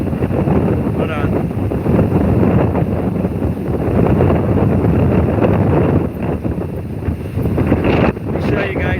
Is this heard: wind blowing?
yes